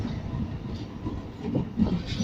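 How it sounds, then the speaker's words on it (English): A Tyne and Wear Metro train runs past a station platform at Byker, a steady low rumble of wheels and rail noise swelling slightly toward the end, with faint hiss above. "And there's another metro car."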